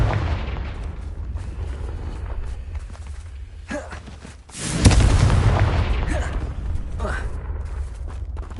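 A single fiery Confringo spell explosion booms midway through Hogwarts Legacy gameplay on PS5, a loud burst followed by a lingering rumble over steady low background noise.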